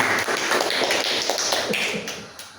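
An indoor audience at a public speaking training session in a mosque claps, a dense patter of hand claps that gradually thins and fades toward the end.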